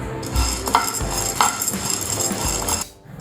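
Tamarind rice mixture stirred in a pan, with scraping and clinking of a metal spoon against the pan and a faint sizzle underneath, close and steady, ending abruptly.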